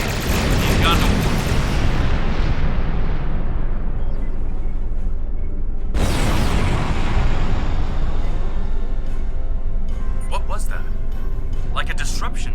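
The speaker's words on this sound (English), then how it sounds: "Computer, arm all weapons and fire!" Starship weapons fire and explosions in Star Trek Online, heard as a loud, constant rumbling roar with a fresh booming impact partway through and crackling bursts near the end.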